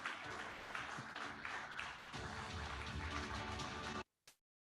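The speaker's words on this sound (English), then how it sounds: "But clap for him." Audience applause at an education summit and awards ceremony: a dense, steady wash of many hands clapping that cuts off abruptly, followed by one brief final burst.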